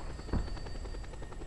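A helicopter in Just Cause 2 multiplayer gives a faint, steady rotor chop over a low drone, opened by a short dull thump.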